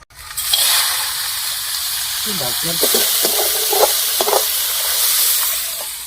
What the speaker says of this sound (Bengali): কাঁকড়াটা প্রথমে ভেজে নেবো সুন্দর করে